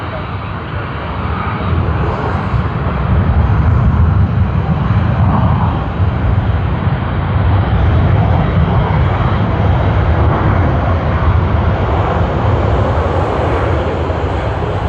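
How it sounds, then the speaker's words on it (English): A Scoot Boeing 787 on its takeoff run at Sydney Airport, a steady loud jet engine roar that builds and holds throughout, with a voice speaking over it. "And we have another 787 out here off Scoot."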